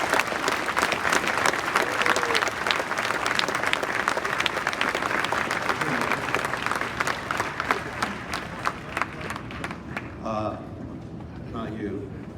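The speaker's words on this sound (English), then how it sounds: "Let's have a big round of applause." An audience applauds after a talk by Steve Wozniak at ASU, with loud, sustained clapping that thins toward the end as a voice begins speaking over the fading applause.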